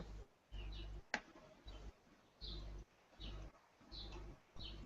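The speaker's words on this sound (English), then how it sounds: "Someone has birds?" Pigeons or doves coo softly in repeated low phrases, with a few thin chirps and one sharp tick, faint and fairly close in a quiet room.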